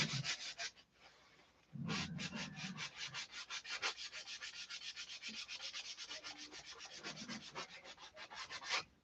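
Close, steady sandpaper strokes rasp back and forth in a fast, even rhythm as a small wooden fuse part for a Sig Magnum model plane is sanded down, with a brief pause early on.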